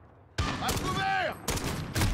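Dragunov sniper rifle fire in a first-person shooter game, loud sharp bursts of shots with a voice speaking briefly between them.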